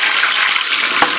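Pork pieces frying in rendered lard fill the clip with a steady, dense sizzle and crackle, loud and close, with a couple of brief bubbling pops and no talk.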